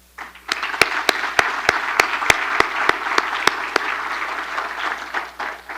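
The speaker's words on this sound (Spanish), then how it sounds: "un aplauso y una felicitación por favor" A crowd at a speaking event breaks into sustained applause, many hands clapping together, with a few sharp louder claps standing out over the steady wash before it tapers off.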